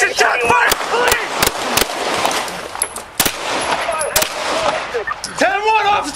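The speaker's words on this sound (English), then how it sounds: "The squad port echoed with gunfire as officers returned fire." Loud rapid bursts of gunfire crack out close by during a police shootout after a high-speed chase, with shouting voices and sirens mixed in around the shots.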